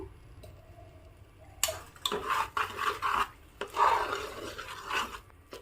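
Ghee being stirred into a semolina batter in a bowl, a faint start and then a steady rubbing, scraping rhythm of strokes that comes and goes in short bursts, close and alone.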